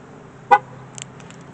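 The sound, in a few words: Nissan 370Z lock chirp beep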